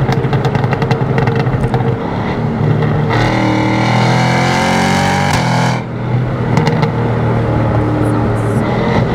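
A supercharged 6.2-liter LT4 V8 in a Cadillac CT5-V Blackwing accelerates hard on a canyon road, heard from inside the cockpit as a loud, rising engine roar with gear-shift breaks and surging pulls.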